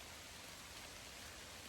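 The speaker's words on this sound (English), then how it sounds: "it is downpouring right now" Heavy rain pouring down in woodland under a tree during a turkey hunt, a dense, constant hiss of downpour with no breaks, steady and enveloping.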